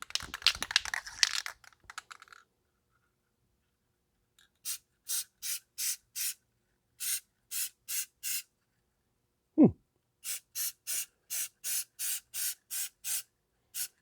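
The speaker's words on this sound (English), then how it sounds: "So I think I'm going to try a little bit more of my spray fabric paint" Spray fabric paint is sprayed onto a rebuilt vehicle seat in short, sharp hissing bursts, first in groups of four and three, then a longer quick series, close to the microphone after some brief rustling.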